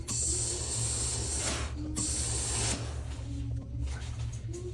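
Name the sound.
sewing machine stitching a suit seam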